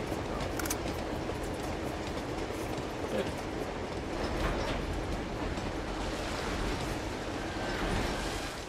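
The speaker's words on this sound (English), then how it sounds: "I always loved this train sequence." A train rolls along in the action video game Uncharted 2, giving a steady, dense rumbling clatter with a faint rhythmic clack over continuous background noise, loud and unbroken throughout.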